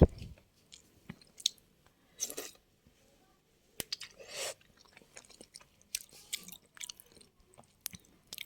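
Close, intermittent chewing and slurping of hot, spicy soup noodles comes in irregular bursts separated by short quiet gaps, with no talking.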